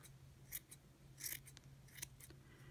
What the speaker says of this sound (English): continue trimming this up so it's rounded